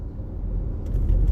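A car on the move gives off a steady low engine rumble and road noise from inside the cabin, growing slightly heavier toward the end, with no one talking.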